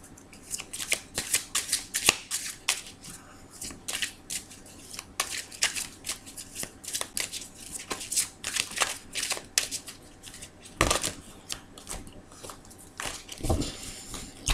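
Tarot cards being shuffled for a reading, a long run of close, crisp riffles and slapping shuffles in quick irregular bursts, fairly quiet and continuous, with no talking over it.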